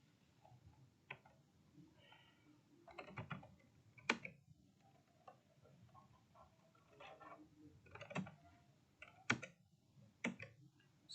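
Someone types a name on a computer keyboard, producing quiet, scattered clicks in short bursts with pauses between them and a few sharper key presses standing out, close and faint with no talking.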